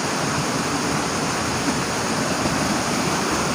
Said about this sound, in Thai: เขาทำน้ำตก